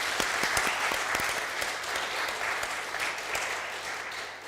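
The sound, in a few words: church congregation applauding the choir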